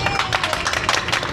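A group of people claps together in appreciation of the KSRTC bus service, a quick flurry of close hand claps with a voice talking over them.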